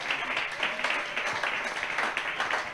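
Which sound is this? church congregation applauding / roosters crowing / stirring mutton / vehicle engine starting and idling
church congregation applauding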